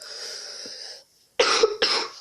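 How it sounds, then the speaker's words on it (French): A rough exhale, then two sharp, harsh coughs in quick succession, close and loud. "Pardon, je tousse un peu."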